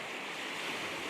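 Lake Erie waves washing onto the beach at Avonia Beach near Trout Run, a steady, continuous roar of surf with wind noise, loud and close, with no voices.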